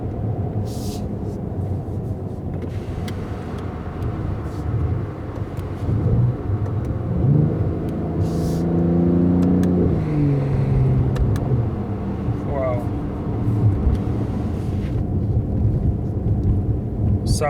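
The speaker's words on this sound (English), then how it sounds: "So this car is really fast car and sounds amazing." A 2020 Mercedes-AMG GT 4-door coupe with a six-cylinder engine accelerating on a highway, a deep engine rumble rising and swelling inside the cabin, with a brief rising whine partway through.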